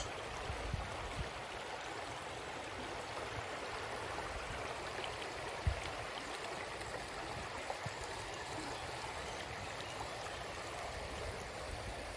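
Stream water flows steadily through a forest, a continuous close rushing and gurgling wash with a few small splashes and knocks over it.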